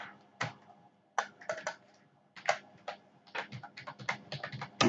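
Computer keyboard keys clatter in short bursts of quick typing separated by brief pauses, close and clear, with no talk.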